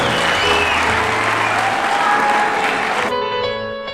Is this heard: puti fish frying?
no